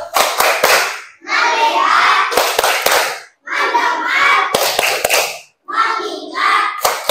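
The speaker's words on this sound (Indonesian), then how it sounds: "Bapak ingin tepuk fokus dulu" An Indonesian school class performs a 'tepuk fokus' clapping routine: sharp bursts of group hand claps alternate with children chanting together in short rhythmic phrases.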